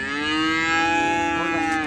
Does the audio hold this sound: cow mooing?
yes